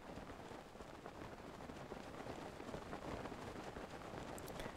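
Steady rainfall in the open world of Zelda: Breath of the Wild, a dense, even hiss of drops pattering across the landscape for the whole stretch, with no talking over it.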